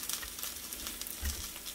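Meat-free sausages fry in hot oil in a pan, giving a steady, close crackling sizzle with small pops throughout and no talking.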